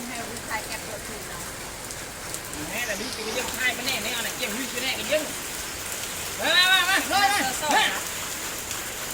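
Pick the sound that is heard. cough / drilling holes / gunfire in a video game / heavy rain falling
heavy rain falling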